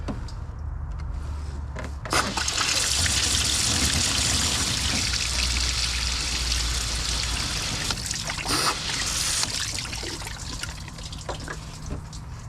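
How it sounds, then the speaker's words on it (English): Water gushes backward through a Toyota Camry heater core during a back flush, a steady, close rushing stream that swells after a couple of seconds and runs on continuously without talk. "Now, let's back flush this."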